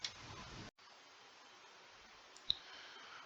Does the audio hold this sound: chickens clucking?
no